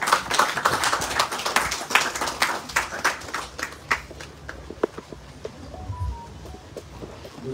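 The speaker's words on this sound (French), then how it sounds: "Sur les applaudissements, s'il vous plaît, monsieur Guy Losbar." Scattered hand claps at an inauguration ceremony for a social services center in Guadeloupe, starting as a brisk, fairly close burst and thinning to sparse, isolated claps as it dies away.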